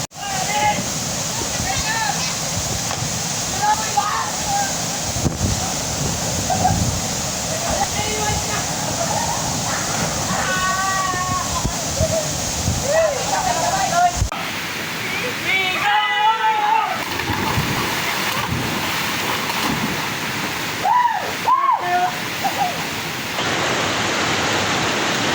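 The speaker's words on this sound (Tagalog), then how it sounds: "Galain nyo na itong Santa Barbara Falls. Dito lang yan sa Iba, Zambales" Santa Barbara Falls in Iba, Zambales pours with a steady broadband rush of water, loud and continuous throughout, with brief faint voices now and then under the roar.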